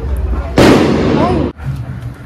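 A single loud fireworks burst erupts abruptly and roars for about a second before cutting off, with a thin whistling trail inside it and quieter background noise around it.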